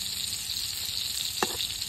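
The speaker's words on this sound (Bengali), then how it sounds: "আমার বেগুন ভাজা হয়ে গেছে" Eggplant fries in hot oil with a constant, close sizzle and one short sharper crackle midway, no voices present.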